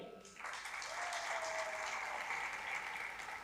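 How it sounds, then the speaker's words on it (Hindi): Audience applause for actor Waheed Murad at a session with legends at the Aalmi Urdu Conference in Karachi, a dense, steady roar of clapping that swells in after a brief moment and holds loudly throughout. "वहीद मुराद के लिए तालियां"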